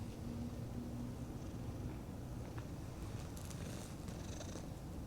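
A soft, steady purr rumbles continuously up close, low and even, with no other sounds over it.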